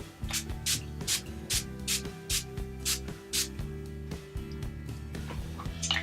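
Makeup setting spray is spritzed onto a face in about a dozen quick, close hissing bursts at a steady rhythm, with soft rubbing and handling noises between them and no talking.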